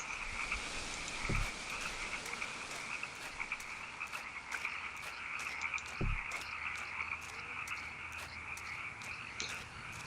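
A night chorus of frogs and cicadas in Kentucky Route Zero, with a constant high insect drone, repeated croaks and two deeper thumps standing out, all fairly close and without any voices.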